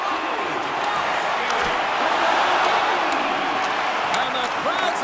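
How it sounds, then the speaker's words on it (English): Arena crowd in the NHL 25 hockey video game cheers at the end of a game, a dense, roaring wash of sustained noise with scattered whistles and claps, running steadily throughout. "And the crowd's on their feet, saluting the team after a hard-fought effort this evening."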